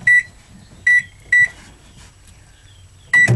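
Microwave oven used as a kiln, its keypad chirping in short electronic beeps, three in quick succession and then another after a pause, over a low, steady running hum.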